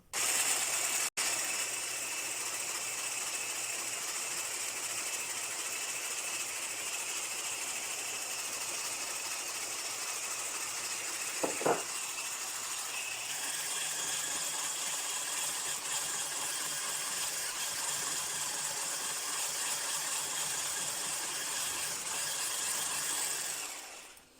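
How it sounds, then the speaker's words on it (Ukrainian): An electric mixer runs at low speed, whipping gelatin into a Ukrainian bird's milk dessert. The whirring drone is steady and fairly faint for about 24 seconds, with a brief clack midway and a slight change in pitch. "Вливаємо потрішечки желатин і збиваємо міксером на невеликій швидкості"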